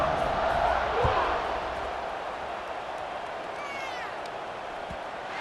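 Stadium crowd in an American football video game roars steadily as teams set up for the kickoff, a broad wash of cheering with a brief whistle-like rise near the end.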